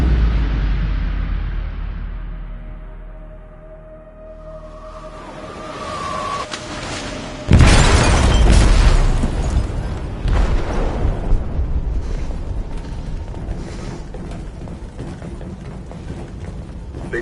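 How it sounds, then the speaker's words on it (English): An explosion aboard a ship in the video game Detroit: Become Human, a low rumble building before a sudden loud boom, followed by a long churning roar that slowly fades. "They detonated an explosive in the hold."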